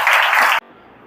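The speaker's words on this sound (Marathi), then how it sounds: "जोरदार टाळ्या वाजवा" Loud crowd applause for a new SRPF recruit at an academy felicitation, a dense burst of clapping that cuts off abruptly partway through, leaving quiet room tone.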